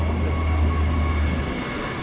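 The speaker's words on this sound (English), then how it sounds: "Ayan na yung train guys." A train pulls into a station in Perth, Western Australia, giving a loud, close, steady rumble with a low drone and a bright hiss, and no talking over it.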